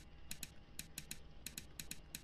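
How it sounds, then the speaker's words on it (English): A typewriter in the video game Ether One clacks in quick, sharp keystrokes, heard alone and fairly faint, some strokes grouped in pairs. "Hey, it's a typewriter."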